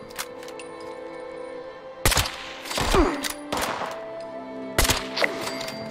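Gunfire in the video game Fallout 76: several sharp, loud shots spaced irregularly over a low humming game ambience, with a couple of close, punchy cracks.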